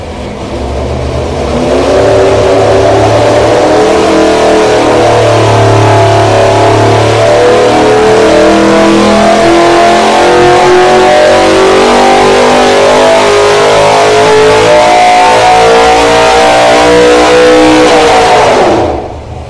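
A 900 hp 565 cubic-inch big block Chevy engine roars on a dyno, holding a loud, sustained rev that climbs steadily in pitch for nearly the whole run before cutting off abruptly at the end.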